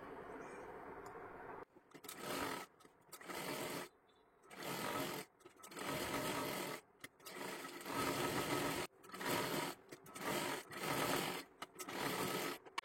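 A domestic sewing machine stitches a young girl's one-piece dress in repeated bursts of steady mechanical whirring, each run stopping briefly before starting again, close and clear with no talking.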